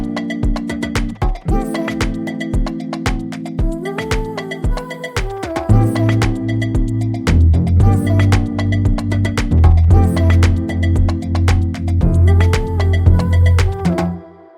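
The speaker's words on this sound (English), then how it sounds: "Then it's the rest of the percussions." Amapiano percussion loops built in FL Studio, busy layered shakers, clicks and hits riding over a pulsing low bass pattern, dense and loud throughout with no voices.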